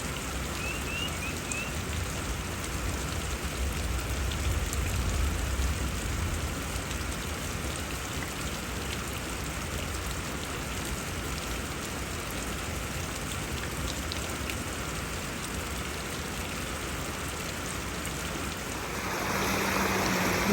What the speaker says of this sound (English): More rain. It rained for 4 days.